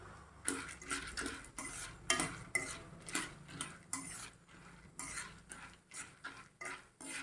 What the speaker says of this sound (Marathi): आता त्या तेलामध्ये आपण एक वाटी डाळ घेतली एक वाटी शेंगदाणे घेतले ते पण आता भाजून घेऊया छानपैकी